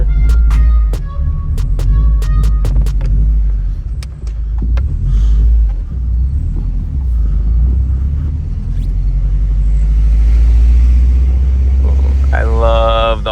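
A 2007 Subaru WRX STI with a Q300 exhaust rumbles deeply and steadily under driving, loud and close, while a person talks over part of it.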